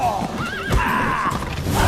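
A horse whinnies loudly and briefly, close by, with hoof clatter and a voice around it, in the video game The Witcher 3.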